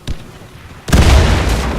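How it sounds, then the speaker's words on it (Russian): A grenade detonates in the first-person shooter Warface on the Villa map, a sudden heavy boom with a deep low rumble that sustains loudly, preceded by a faint small thump. "Осторожно, граната!"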